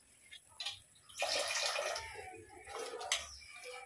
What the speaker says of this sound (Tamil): கொஞ்சம் தண்ணி ஊற்றிக்கிறேன்.